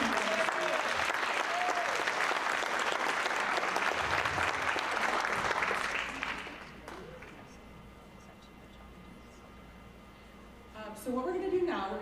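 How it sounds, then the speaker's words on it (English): An audience at a teacher education coin ceremony applauds loudly for about six seconds, then the clapping fades to quiet room noise before a voice begins speaking near the end. "Let's get another round of applause for Betty."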